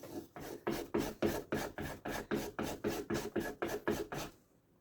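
Rhythmic strokes of S90V steel knife blade across a cheap sharpening stone, about a dozen evenly spaced gritty swipes at close range, moderately quiet, with no voices.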